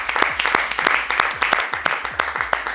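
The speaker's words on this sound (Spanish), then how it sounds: "Para quien pide un fuerte aplauso, por favor." Audience applause for a football coach guest at a Peruvian sports talk event, a loose run of claps with sharp individual peaks, fairly close and steady through the moment.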